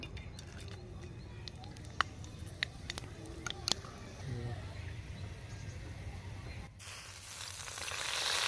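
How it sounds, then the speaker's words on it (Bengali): Whole spices—mace, cardamom, cloves and cinnamon—sizzling in hot oil for a vegetarian Kashmiri dum aloo, a steady close frying hiss with a few sharp pops, swelling louder near the end. "এখানে তেলে ফোড়নে দিচ্ছি দেখুন জয়ত্রী এলাচ লবঙ্গ এবং দারচিনি"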